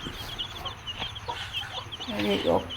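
Hen-hatched black and white chicks, with fowl nearby, cheep and cluck in quick scattered calls up close, growing a little busier toward the end, with faint voices in the background.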